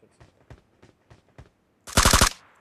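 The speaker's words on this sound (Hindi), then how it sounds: "बिल्कुल ऐसे टॉमी गन जैसी आवाज़ क्यों कर रही थी" Gunfire from a suppressed gun in PUBG: a few soft, evenly spaced single shots, then a loud, tight burst of about six rapid rounds that ends abruptly.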